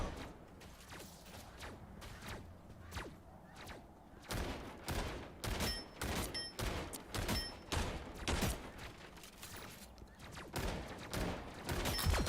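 A shotgun-like gun in a video game fires repeatedly in close, punchy blasts, with several rapid clusters of shots running throughout and denser firing in the second half.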